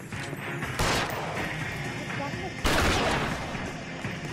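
Gunfire in a video game, two loud, sudden bursts of shots about two seconds apart, heard under someone talking.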